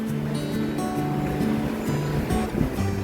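Steady, loud whooshing of a fan blowing in a market restroom, a continuous droning rush with a low humming tone and no talking.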